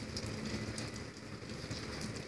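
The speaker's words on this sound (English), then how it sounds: "It's raining out" Steady rain falls outside a house, heard as an even, soft hiss with scattered patter, continuous and fairly faint.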